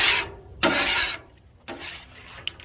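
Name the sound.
scraping the Blackstone griddle surface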